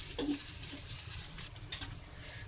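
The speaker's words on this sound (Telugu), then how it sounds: "చూడండి, ఫ్రై అయినాయి, మనకి హాఫ్ ఫ్రై అయినాయి" Capsicum half-fried in a pan for gobi noodles, with a continuous sizzle and hiss and a few scraping stirs of a spatula, close by and fairly quiet.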